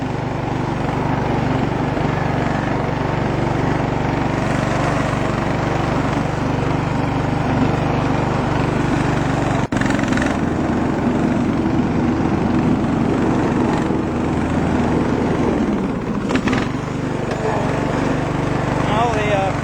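A Sabre lawn tractor runs steadily with its mower deck engaged, a loud continuous engine drone with blade whir that holds for the whole stretch, with a short dip and shift in pitch near the end as the throttle changes.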